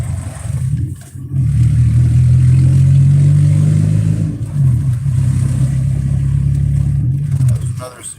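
A car engine revs up and holds a steady drone through a downshift, with the pitch shifting midway and easing off near the end; loud and close, with no clear talk over it.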